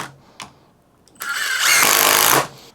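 A Milwaukee cordless driver on speed 3 with a full battery drives a small deck screw, a couple of faint clicks giving way to a sharp, loud motor whine lasting about a second.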